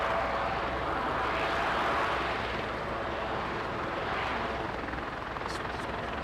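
Ryanair Boeing 737 on approach to land at East Midlands Airport, a steady, loud broadband jet roar that holds constant throughout with no talk over it.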